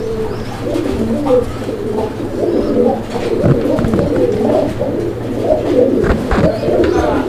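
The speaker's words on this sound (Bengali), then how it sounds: "এখানে আরো এক জোড়া কবুতরের কালেকশন রয়েছে" Pigeons coo steadily from a Barhuma pair and others kept at a pigeon market stall, soft rolling calls overlapping throughout over a low background hum, with no talk.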